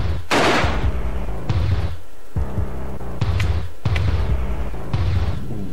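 Gunshots in the survival horror video game Alone in the Dark: The New Nightmare, several loud booming blasts spaced about a second apart over a low, throbbing background.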